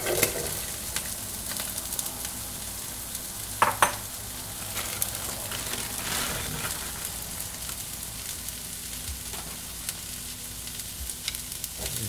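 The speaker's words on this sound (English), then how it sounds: "So now it's time to throw in your cauliflower." Cauliflower tossed into a pot coated with sausage fat for a spicy keto Zuppa Toscana soup, loud steady sizzling with a few stirring clatters near the start.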